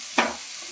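Cut cauliflower pieces dropped into hot oil in a pan, a sudden sharp sizzle burst that quickly settles into a softer steady frying hiss.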